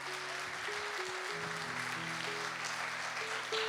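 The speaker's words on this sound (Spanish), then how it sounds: "Dale ese fuerte aplauso al Señor" Congregation at an evangelical church service gives loud applause to the Lord, a steady, continuous roar of many hands clapping beneath sustained held musical tones from an instrument in the room.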